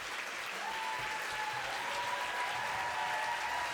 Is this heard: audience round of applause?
yes